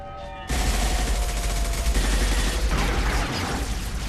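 Sustained gunfire from a Mass Effect 2 firefight, a loud continuous barrage of rapid shots and bursts filling the whole stretch after a brief quieter opening.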